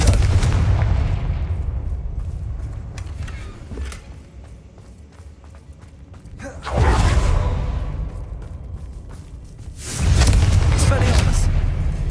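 Confringo spell blasts in the video game Hogwarts Legacy: two loud broadband bursts erupt mid-clip and near the end, each decaying into a rumbling tail over a busy game background.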